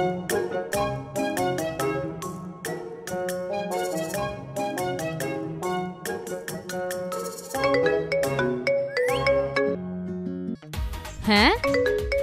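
A mobile phone rings with a bright melodic tune of rapid repeated chiming notes, loud and continuous for several seconds.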